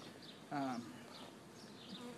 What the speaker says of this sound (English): they're fanning their wings past that pheromone gland